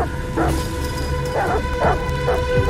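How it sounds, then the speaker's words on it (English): Dogs bark in Detroit Become Human, several loud, close barks in a quick irregular series over a steady storm-like background. "the dogs are right behind us"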